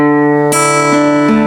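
Fingerpicked acoustic guitar on open strings plays a short riff, with ringing sustained notes and a few new plucks layered over them, close and clear with no talking.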